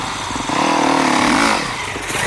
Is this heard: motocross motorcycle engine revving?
yes